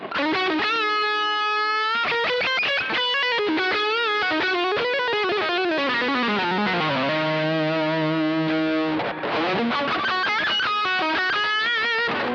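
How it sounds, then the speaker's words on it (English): Heavily distorted electric guitar through a Maxon distortion pedal on an amp-less pedalboard, playing sustained chords and riffs, loud and continuous, with a thick saturated buzz throughout. "Or we can even add more distortion, adding the maxo."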